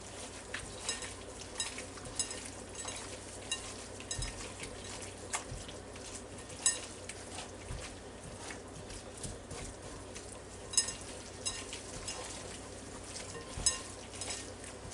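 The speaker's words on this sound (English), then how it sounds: "Now I'm going to start stirring it all up," Salmon patty mixture with breadcrumbs is stirred in a bowl, giving soft, wet, irregular scraping and squelching with occasional sharper clicks of the utensil, quiet and close.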